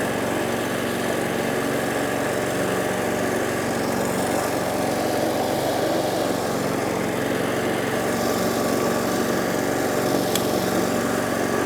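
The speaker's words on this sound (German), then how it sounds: "Jetzt machen wir mal den ersten Gang rein." A petrol mulching lawn mower, model PM5, runs in first gear with a constant, close, loud engine drone that holds steady throughout with no talking.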